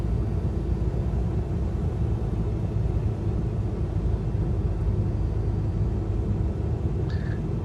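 Steady low aircraft engine drone in Microsoft Flight Simulator, a small plane flying low near an airfield with full flaps as power is brought in, a continuous loud rumble with little change and no talking.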